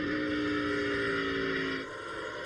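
Ward Burton's NASCAR stock car engine at the 2002 Southern 500 roars steadily, then drops in pitch and loudness as the driver lifts off the throttle near the end.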